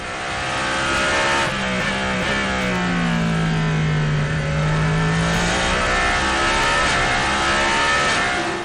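An endurance race car roars past at full throttle during FIA WEC qualifying in Qatar, loud and close, with a sweeping pitch shift as it passes. Other engine noise stays loud behind it the whole time.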